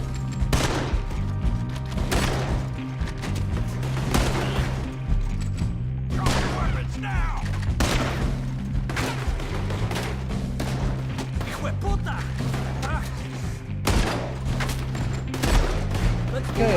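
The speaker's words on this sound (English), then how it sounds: "I guess I'm just shooting up the place then" Rapid gunfire in Red Dead Redemption II keeps cracking in repeated volleys of close, loud shots for the whole stretch, with game music and a voice talking over the shooting.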